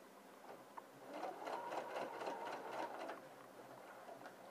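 A sewing machine runs in a short close burst while stitching a welt pocket, a quick mechanical whirring patter that rises for about two seconds and then eases off, with no talking.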